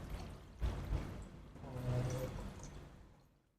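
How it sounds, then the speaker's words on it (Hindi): Water poured from a glass over freshly cut lemons, roughly one glass' worth, giving a soft splashing fill of moderate loudness that swells midway and fades out, with no talking. "ये मैंने नींबू काटे हैं और इसमें मैं डालता हूँ पानी।"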